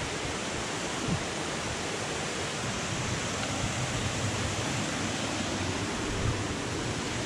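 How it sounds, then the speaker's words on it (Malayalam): Water pours at Meenmutti waterfall in a steady broadband roar, close and unbroken throughout, with no voices. "അങ്ങനെ വെള്ളച്ചാട്ടം എത്തി."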